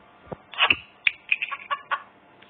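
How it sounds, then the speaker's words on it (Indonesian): A chicken clucks in the horror video game Evil Nun 2, a quick run of short, bright clucks and squawks close by, irregularly spaced over a couple of seconds against a quiet background. "Ayam tu, dia macam ayam biasa."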